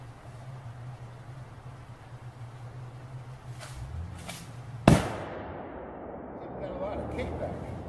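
Single sharp shotgun blast from a shell loaded with no shot, fired outdoors, a loud crack at mid-clip after a low idling engine hum, with a short decaying tail.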